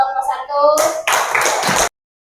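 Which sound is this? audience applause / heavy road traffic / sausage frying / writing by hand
audience applause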